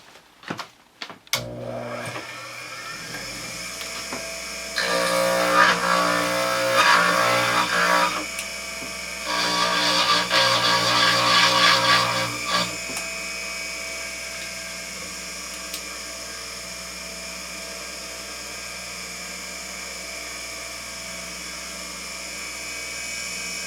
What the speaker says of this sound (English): take an instrument and burr off the top portion here